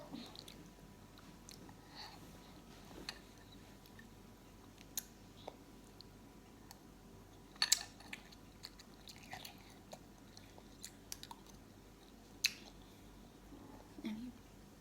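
Someone chewing a mouthful of pork larb with mint leaves and sticky rice, soft wet munching and occasional sharp clicks close to the mouth, fairly quiet against a faint background hum.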